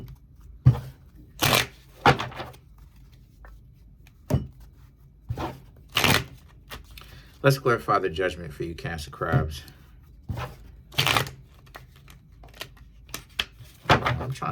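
Tarot cards being shuffled in a series of sharp, crisp riffling bursts separated by short pauses, close by, while a person speaks between and over the shuffles.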